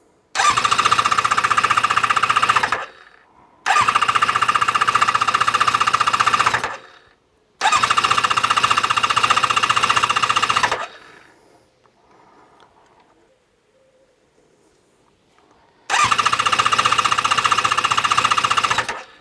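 A Kawasaki ZZR600 motorcycle engine is cranked in four loud, rough, rattling bursts of about three seconds each, with short gaps and one longer near-silent pause between them.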